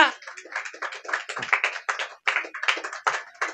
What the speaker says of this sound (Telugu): ఒకసారి చప్పట్లు కొట్టండి గట్టిగా